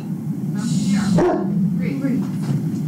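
A trained dog gives a single bark partway through, close by and fairly loud, while people talk around it indoors.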